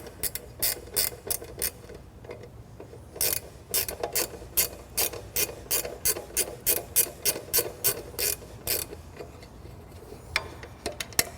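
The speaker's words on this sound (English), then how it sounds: "Once the screw is out, this plate simply slides forward and off the machine." A screw being removed with a ratcheting tool on a Supermax 19-38 combination sander, a long train of crisp mechanical clicks in quick bursts, close and alone, with no talking.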